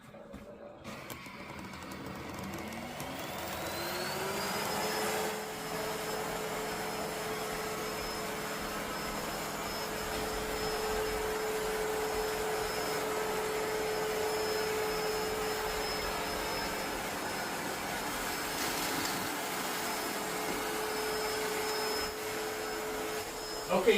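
An Ecovacs T10 OMNI robot vacuum winds up and then runs with a steady, moderately loud whirring hum while it cleans a furniture area, a thin whine rising as the motor starts.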